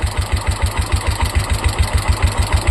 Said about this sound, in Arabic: المكنه دايره طبعا اهيت قدامك لو انت سامع صوتها